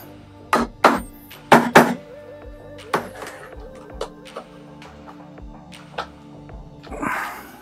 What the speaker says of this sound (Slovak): tak, radšej gumeným kladivkom